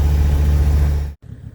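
A diesel Toyota 4Runner engine lugs under load at low revs, a loud, steady low rumble that cuts out abruptly near the end before a quieter, rougher engine sound resumes.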